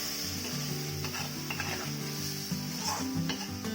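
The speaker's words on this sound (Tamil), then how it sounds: "அரைச்சி வச்சு இந்த மசாலாவை ஊற்றிக்குவோம். நல்லா கிளறிக்குவோம்." Ground masala paste being stirred into brinjal frying in a pan, a steady close-up sizzle with continuous scraping and stirring strokes throughout, no voices.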